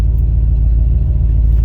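A 1976 Chevy C10 Suburban with a 454 V8 and Flowmaster exhaust idling, a loud, deep, steady burbling rumble up close, with no revving and no voices.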